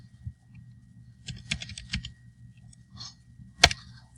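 A computer keyboard gets a short burst of quiet keystrokes as a text command is typed: scattered crisp clicks with small pauses and one sharper final tap, like a return key, over a faint hum.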